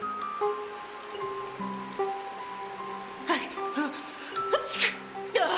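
A single sneeze from a character in Honkai: Star Rail, sharp and fairly close over soft game music, followed by a second brief burst of breathy noise.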